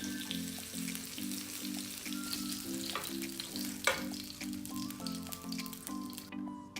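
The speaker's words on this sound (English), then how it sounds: "When your salmon is already golden brown like this, turn off the heat." Salmon fillet frying in a hot pan until golden brown, a soft continuous sizzle with faint utensil clinks and a brief scrape, close but quiet, no talking.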